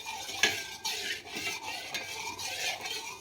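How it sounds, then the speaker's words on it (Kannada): Barley porridge stirred in a pot with a utensil, scraping the pot in a steady rhythm of soft strokes at a close, fairly quiet level. "ಉರಿ ಬರೋವರೆಗೂ ಕಲಿಸ್ತಾ ಇರೋಣ."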